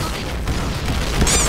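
Explosions in the shooter game Point Blank during a water-festival themed match, a dense run of booming blasts under game noise, with a sharp burst near the end.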